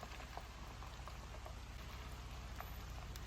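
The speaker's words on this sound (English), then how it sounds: "It's rainy, it's cold." Steady rain patters on surfaces at a rainy, cold riverside campsite on Springer Mountain in Georgia, a dense continuous wash of drops with scattered close splats and no voices.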